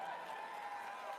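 A large crowd applauds and cheers at The Game Awards 2022, a dense, continuous wash of clapping with no breaks across the short stretch.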